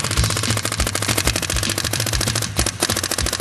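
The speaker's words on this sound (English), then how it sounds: "we're in mode 5, auto response mode on the Virtue paintball board" A Virtue-equipped paintball marker fires in auto response mode, with a rapid, loud string of close sharp pops in fast even rhythm and one brief pause before the shots resume.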